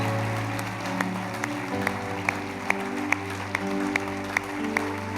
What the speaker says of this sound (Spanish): Más fuerte ese aplauso, es para Él